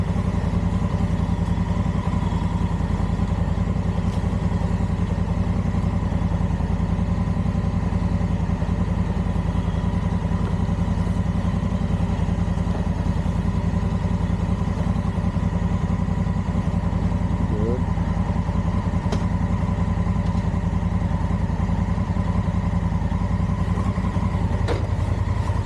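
A motorcycle engine drones steadily throughout a ride through a city, a loud, constant low rumble with faint rattles and a voice talking underneath.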